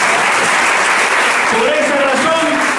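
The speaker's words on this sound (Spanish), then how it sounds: "Denle un aplauso." A church congregation breaks into loud, dense applause during a sermon on the Virgin Mary, sustained clapping filling the room with voices rising over it near the end.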